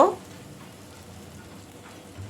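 Onions frying in oil in a pan while being stirred make a faint, steady, soft sizzle that runs evenly throughout, with a brief louder touch at the very start.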